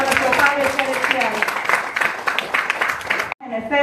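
A church congregation claps hands together as an offering, a dense burst of applause with voices mixed in that cuts off abruptly near the end.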